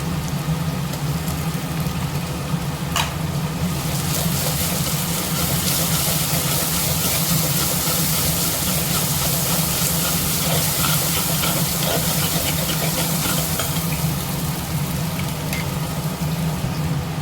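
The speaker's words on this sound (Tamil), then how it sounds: "இந்த ஸ்டேஜில் நம்ம ஒரு அரை ஸ்பூன் இஞ்சி பூண்டு பேஸ்ட்டு சேர்த்துக்கலாம்" Ginger garlic paste fries with softened shallots in a clay pot, giving a continuous, fairly loud hiss and sizzle that runs evenly the whole time, with a few faint clicks and no voices.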